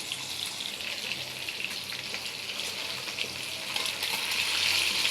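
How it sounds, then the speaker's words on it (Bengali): Hilsa fish frying in hot oil gives a continuous bright sizzle and crackle, close and steady, with no talk. "এই যে ইলিশ মাছটা ভাজা বসাই দিছি।"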